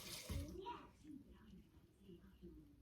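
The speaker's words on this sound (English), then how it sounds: "you want to add in 250 ml of your 1 litre of vegetable stock" Vegetable stock, about 250 ml, poured into a pan for a curried parsnip and apple soup: a short splashing pour early on, with voices talking around it in a home kitchen.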